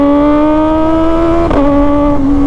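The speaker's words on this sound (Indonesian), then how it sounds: "Ini motor ini nggak bisa dibuat pelan cuy" A motorcycle engine revs hard during a ride, holding a loud, steady pitch before a brief shift at mid-clip and settling lower, continuous and close throughout.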